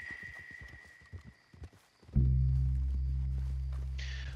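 A horse in Red Dead Redemption 2 gives a few soft hoof thuds, then a loud sustained low rumble swells up and holds to the end.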